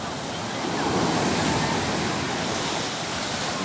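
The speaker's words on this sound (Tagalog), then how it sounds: "Parang music to my ears yung sound ng wave." Ocean surf rushes against the shore in a loud, continuous wash of broadband noise that swells and eases slightly, with wind hiss across the whole stretch.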